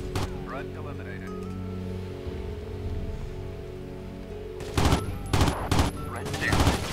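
Rifle fire with an extended C-Mag magazine in the video game Athena Sword: several sharp bursts of gunshots arrive in a quick cluster late on, loud against a quieter droning game background.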